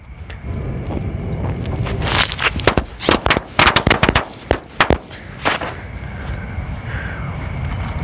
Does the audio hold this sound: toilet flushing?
no